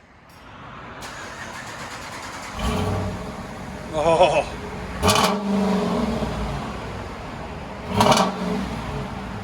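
A Dodge Durango R/T 5.7L HEMI V8 cranks and fires up with a loud, raw straight-pipe exhaust roar, then blips through several sharp revs before settling into a rumbling idle.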